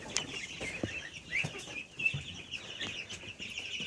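Chicks and young geese at a poultry farm peep and chirp in a busy, overlapping chorus, with short high calls and occasional soft clucks at close range, no talking.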